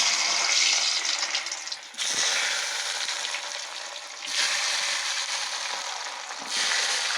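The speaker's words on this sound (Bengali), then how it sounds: "এবারে বেরেস্তা ভাজার তেলটাতে আলুটা ভেজে নেব।" Potatoes frying in oil left over from frying onions for a village biryani, a steady loud sizzle with bursts that swell and ease, no voices.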